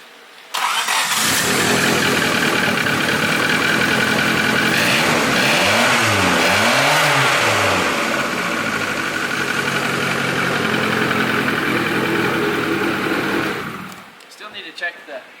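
A turbocharged Honda Civic with VTEC starts up and revs loudly up close, its engine note rising and falling through several sweeping revs before settling and cutting off.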